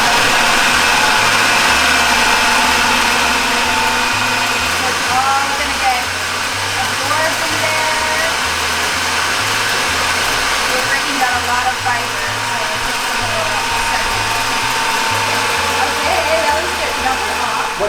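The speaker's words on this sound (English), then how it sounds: "we're pretty much going to blend it up and make it into a paste" A blender whirs loudly and steadily, pureeing chickpeas and sugar into a paste, its motor roaring close up without a break and its pitch wavering slightly as the mixture churns.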